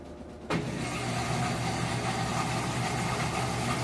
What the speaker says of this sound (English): It's making that loud grinding noise.